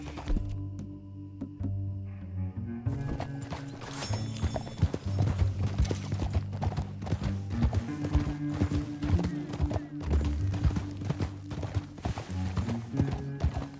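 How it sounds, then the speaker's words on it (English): Steady clip-clop of horse hooves at a brisk trot in Red Dead Redemption 2, with low game-like background music underneath. "Back on your horse, let's get after them."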